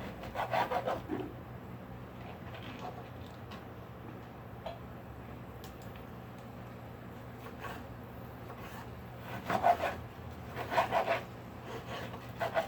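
A knife blade saws through raw chicken, rasping back and forth in bursts of strokes, close and fairly loud, with quieter stretches between over a steady low hum.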